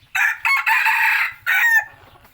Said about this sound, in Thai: ตัวนี้จะขันคล้ายๆไก่ป่าเลยนะครับ ตัวแดงครับ